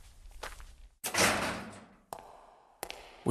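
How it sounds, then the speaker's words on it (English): A door in an audio drama scene thumps and swings, with a loud creaking sweep that fades, then two sharp latch clicks as it shuts, set against quiet room tone. "Go ahead, through the side door."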